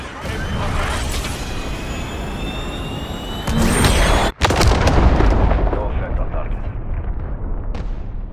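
A cruise missile explosion in Call of Duty: Modern Warfare: a loud rolling boom with rumbling debris and a sharp cut, over a roaring, dense battle mix.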